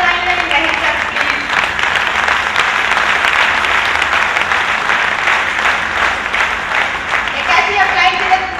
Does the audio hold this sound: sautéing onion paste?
no